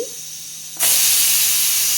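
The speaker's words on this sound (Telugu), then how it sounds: "ఈ కుక్కర్ని పెట్టేసుకుని ఒక మూడు నాలుగు విజిల్స్ వచ్చే వరకు దీన్ని ఉడకనిద్దామండి" A pressure cooker on a stove, cooking moong dal with bottle gourd, suddenly bursts into a loud, steady whistling hiss of escaping steam after a brief quiet moment, continuing strongly to the end.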